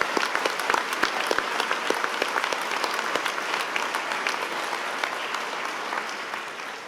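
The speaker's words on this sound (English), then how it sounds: "I think you all deserve a round of applause." Sustained applause fills a university graduation ceremony hall in Treforest, South Wales, a dense, even patter of many hands clapping with crisp individual claps standing out, holding steady for the full stretch.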